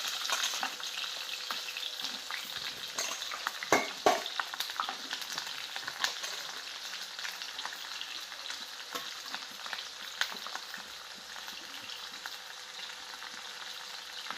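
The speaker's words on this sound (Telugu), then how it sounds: "మిర్చి ఇప్పుడు మన ఆనియన్స్ వేసుకుందాం" Onions and green chillies frying in hot oil for a bitter gourd tamarind stew, a steady broad sizzle with occasional stirring clinks and scrapes, close and moderately loud, with no talking.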